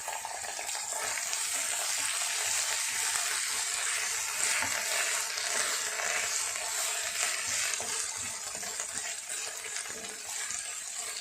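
Garlic paste and vegetables frying in a pan for a white sauce pasta, a steady loud sizzle with scattered stirring clinks running the whole time, no voices.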